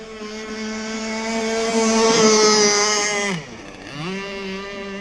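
A Zenoah marine engine drives a boat hull on a test run, roaring loud and steady, rising in pitch toward the middle, then briefly dropping off before picking back up.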